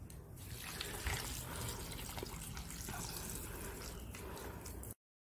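Water poured onto soil in a potted avocado plant, a continuous trickling, splashing flow close by for about five seconds, then cutting off abruptly into silence.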